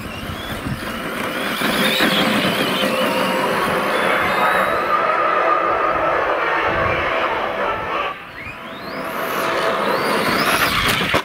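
An Arrma Outcast 4x4 4s RC car races at speed in a park, its electric motor whining loudly with rising and falling pitch, then dips briefly before surging again.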